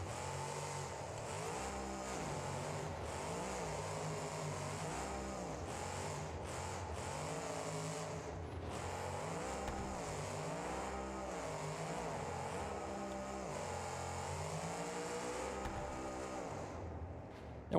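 A monster truck engine in the BeamNG.Drive driving game rumbles steadily throughout, its pitch rising and falling in repeated rev swells, loud and continuous with no talking.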